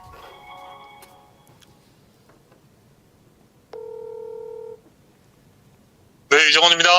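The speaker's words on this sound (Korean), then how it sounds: "자, 한번 제가 전화로 연결을 해보도록 하겠습니다." A telephone call being placed on a live broadcast: faint clicks and ticks, then a single steady tone held for about a second, followed by a loud burst as the line connects.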